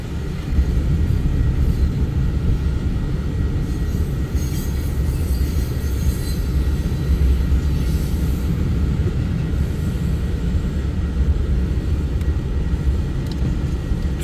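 A Union Pacific locomotive hauls a VIA Rail passenger train past, a steady loud rumble of wheels and rail cars rolling on for the whole stretch, with faint squeal and no talking.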